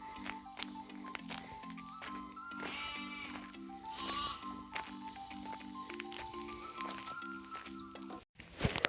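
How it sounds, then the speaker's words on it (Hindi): A flock of sheep belonging to Gaddi herders bleats near a village in Himachal Pradesh, with many repeated wavering calls overlapping close by and no talk. "देखो कितनी सारी भेड़ें हैं"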